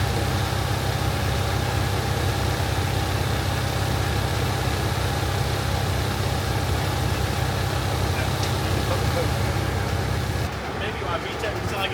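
K-swapped Honda Civic engine running steadily on a dyno with VTEC about to engage, a loud continuous drone throughout under a person talking, easing off near the end.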